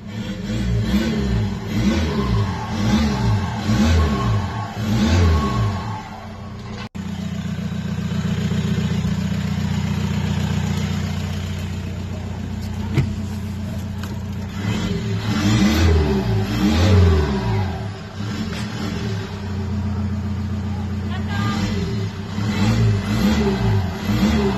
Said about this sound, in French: Mais rien que le bruit du turbo, c'est bon.